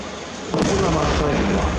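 Firework bursts at the Nagashima Onsen opening-anniversary display in 2018: after a quiet half-second a booming burst erupts and a broad, crackling roar sustains to the end, with a loud, rumbling low end.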